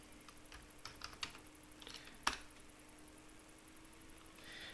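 Keys tapped on a computer keyboard while working through a Linux installer, a few quiet separate clicks and one sharper keystroke over faint background hiss, with no talking.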